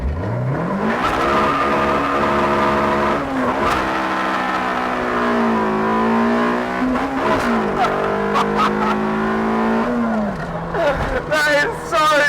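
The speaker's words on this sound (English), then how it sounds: "it wouldn't be right to be in a Honda CRX without a little VTEC pull" A Honda CRX Si with a B-series engine accelerates hard into VTEC, its engine note climbing in pitch through the revs, briefly dropping and then rising again, loud and close from inside the car.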